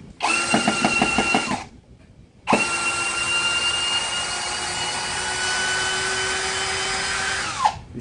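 A Ronix 8905K 20-volt cordless hammer drill on speed 1 whirs in two runs: a short burst that stops, then a longer steady high-pitched spin that winds down at the end. Loud and close, with no talking.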